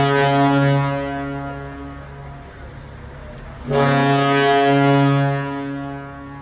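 St. Louis Blues hockey goal horn blasting a deep, loud, sustained honk close by, cutting out briefly in the middle before a second long blast resumes and slowly fades.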